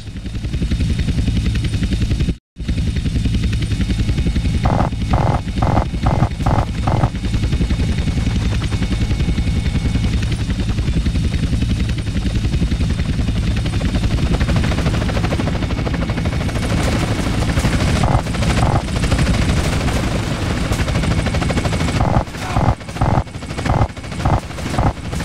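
Helicopters in GTA San Andreas drone steadily through the whole clip as agency choppers close in, with bursts of rapid gunfire clattering over the rotor noise and a brief cut near the start.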